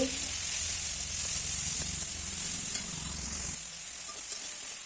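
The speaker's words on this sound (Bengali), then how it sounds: "নেড়ে চেড়ে ভেজে নিচ্ছি চিংড়ি মাছ ভাজা হয়ে গেছে" Prawns coated in salt and turmeric frying in mustard oil in a wok, a loud, dense, continuous sizzle heard close up, with faint stirring underneath that eases slightly toward the end.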